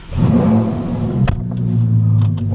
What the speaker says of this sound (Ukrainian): я хочу вам показати, як само шикарно працює у нас прогазовочка